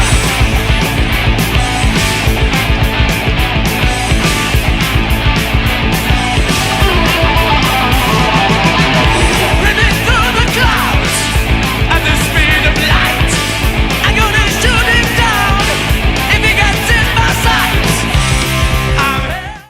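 A loud, dense hard rock recording, distorted guitars driving over pounding drums in a continuous full-band wall of sound.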